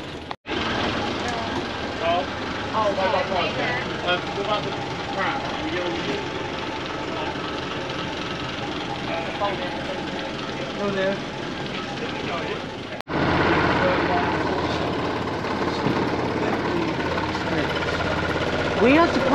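A heritage bus's large diesel engine rumbles steadily at Epping station, with a brief cut partway, while people chat over the drone.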